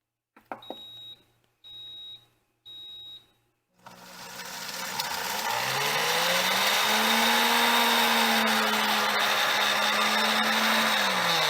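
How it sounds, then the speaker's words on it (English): A few short electronic beeps, then a blender motor spins up and whirs loudly and steadily, its pitch shifting slightly as it runs, blending a rib rub. "Let's just give this a quick whirl in our blender."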